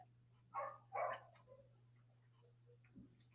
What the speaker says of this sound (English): my neighbor's dog is freaking out